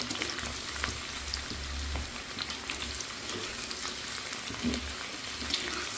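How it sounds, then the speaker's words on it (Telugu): Ingredients for a chutney fry in a pan with a steady, even sizzle and occasional stirring scrapes, moderately close and continuous, with no one talking. "చూడండి ఇలా చక్కగా వేగాలి"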